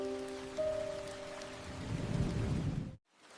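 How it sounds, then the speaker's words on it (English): Steady rain falls outside a window, a soft broadband hiss with a low hum and tonal drone running under it for about three seconds before cutting off abruptly. "It's raining today, and I love watching the rain through the window."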